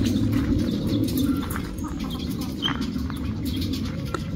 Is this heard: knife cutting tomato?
no